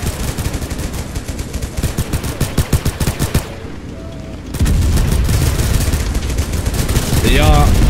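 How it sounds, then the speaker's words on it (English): Rapid machine gun fire in the war game Total Conflict Resistance, loud repeated bursts for several seconds, then a heavier rumbling stretch of continued fire with a brief whistling sound near the end. "This is just machine guns."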